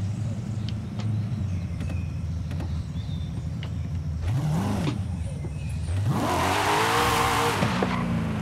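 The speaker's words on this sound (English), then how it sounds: "Car did not want to go forward there for a second." A car engine in the video game Forza Horizon idles, then revs in a short rising swell before surging into a loud sustained acceleration with climbing pitch, close and without talk.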